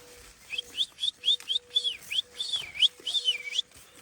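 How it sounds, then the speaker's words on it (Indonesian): A bird calls repeatedly in quick rising and falling whistled notes, about a dozen in a row, clear and fairly close over a quiet background. "itu suara burung."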